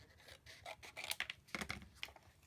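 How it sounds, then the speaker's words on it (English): Scissors trimming a photo for scrapbooking make soft, close rasping snips in a quick irregular series, fairly faint and with no talking. "I think I might trim it down slightly."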